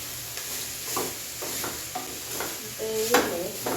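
Beetroot stir-fry with onion and green chilli being stirred in a pan, a spoon scraping and clacking in irregular strokes over a soft continuous sizzle, close and moderately loud, with no talking.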